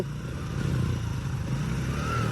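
A faulty motorcycle engine, smoking from the silencer, idles and runs with a steady low rumble, fairly close, its pitch rising slightly toward the end.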